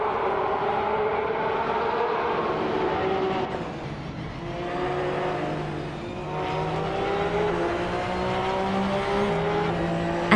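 2017 Porsche 911 GT3 Cup race cars in a racing video game, engines droning at high revs with rising and falling pitch as gears shift, a steady close whine over several passes, no voices.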